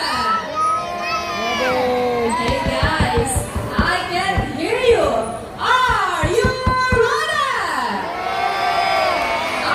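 A crowd of adults and children at a sea lion show cheers and shouts loudly in bursts, with rising whoops and kids' yells, while a presenter talks over the noise.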